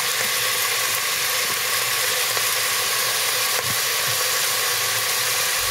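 Pork belly skin-side down browning in a cooking pot for braised pork gives a steady, close, continuous sizzle and crackle with no speech, a faint low hum running underneath.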